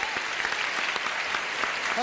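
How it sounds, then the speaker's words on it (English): Studio audience of a 1973 CBS game show pilot applauds two women contestants, a dense steady wash of clapping filling the whole stretch, with a brief spoken voice near the end. "Let's have a little applause for these ladies."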